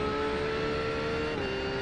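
A GT3 race car engine in the iRacing simulator holds a steady, loud high drone with a sustained tone, heard alone with no talk.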